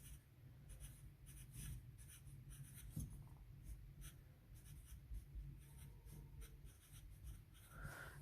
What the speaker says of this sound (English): And I'm going to be writing my date.